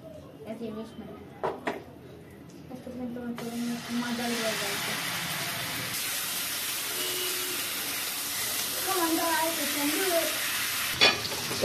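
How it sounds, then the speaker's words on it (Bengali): Chicken tandoori pieces, turned over in a pan on a gas stove, break into a loud, steady sizzle and hiss that runs through most of the clip while a person talks over it. "এটার একটা পিঠ ভাজা হয়েছে, আর একটা পিঠ উল্টে দিয়েছি"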